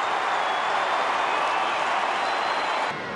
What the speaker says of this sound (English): The crowd like it